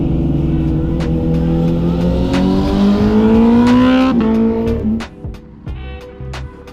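Motorcycle pulling away and riding the D43 route de Saint-François, a loud engine climbing steadily through revs, a gear change, then easing off with lighter engine pulses near the end.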